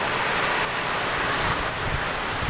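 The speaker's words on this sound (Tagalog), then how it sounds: "Lakas ng bagyo dito. Nakasamang hangin." Storm with heavy rain and strong wind in Baguio, a loud continuous roar of rushing wind and pouring rain filling the whole stretch without pause.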